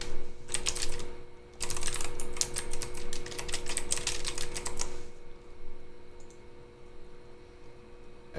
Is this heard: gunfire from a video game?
no